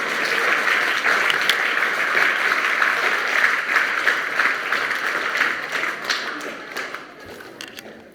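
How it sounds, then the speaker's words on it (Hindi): Audience clapping at a school class 10 farewell programme, a loud dense burst of applause that holds steady and then gradually thins and fades toward the end. "वैभव सिंह के लिए ताली बजाएं।"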